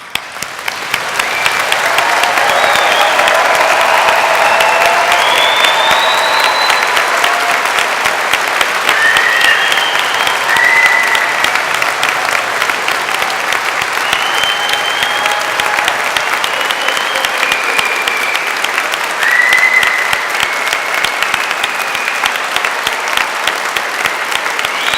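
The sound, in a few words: applause for graduates at a degree ceremony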